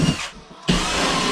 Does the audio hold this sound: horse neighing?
no